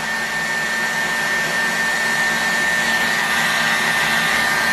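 A hot-air tool blows with a steady, loud whooshing whine while heating an OS FS-120 model aircraft engine to free its crankshaft bearing, with no voices.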